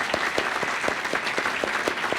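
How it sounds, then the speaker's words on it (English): A round of applause for volunteers and board members at an annual meeting, steady continuous clapping from a gathered audience with a few heavier claps standing out. "So I think they deserve a round of applause"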